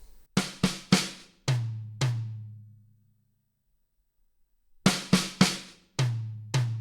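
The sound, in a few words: drum fill starting with gallop pattern, right hand onto tom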